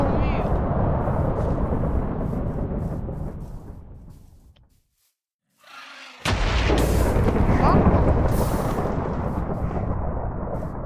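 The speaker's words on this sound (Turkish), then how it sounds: "Oğlum bu silah bana da hasar veriyor Ahmet." Heavy booming gunfire from a weapon in the Minecraft Crazy Craft modpack, loud rumbling blasts filling the clip, dropping out briefly in the middle before a sharp renewed barrage.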